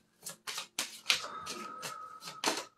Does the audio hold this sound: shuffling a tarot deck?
yes